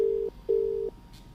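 A telephone sounds two steady electronic tones while a call is being placed to a husband, a short beep followed by a longer one, clear and alone with no talking.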